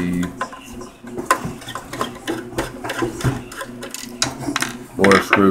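Screws being removed from a U-turn gumball machine, with close metallic clicks, squeaks and ratcheting turns of a screwdriver, a louder rattle near the end, and a voice talking under the work.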